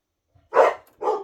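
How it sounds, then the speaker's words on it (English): Two short barks from a dog a little way off, the first louder, with silence around them. "And you have barking dogs in the background."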